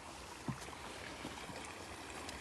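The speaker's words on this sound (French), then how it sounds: "donc les petits buis, la petite cascade" A small cascade spilling into a pond in an ornamental garden, a faint steady trickling wash heard from a distance, continuous and even with no voices.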